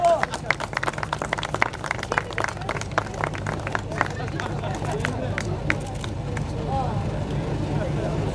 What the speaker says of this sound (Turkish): Alkışlar Burhan Kuru, Burak Başlık ve Çağlayan Çelik için.